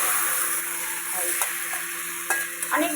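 Garlic and bottle gourd greens with a fish head fry in a pan, giving a steady soft sizzle with occasional light scrapes and stirs of a spatula.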